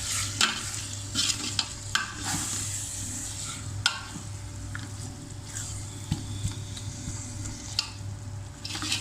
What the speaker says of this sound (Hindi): अब इसको इसको चम्मच से अच्छी तरीके से हिला के मिक्स करेंगे।